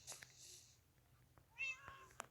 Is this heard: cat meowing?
yes